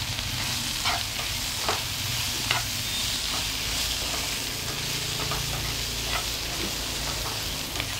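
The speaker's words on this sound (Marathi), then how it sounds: "तेल थोडं परत टाकते, आपले तेलामध्ये टोमॅटो छान मऊ होतात।" Tomatoes softening in hot oil in a pan for Ahmednagar-style misal, with a steady close sizzle, some stirring scrapes now and then, and no talk.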